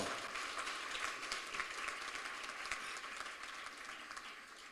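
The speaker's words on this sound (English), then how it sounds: "Can we give Rusuna a proper round of applause?" Sustained applause from a crowd, steady dense clapping that fills the whole stretch without letting up.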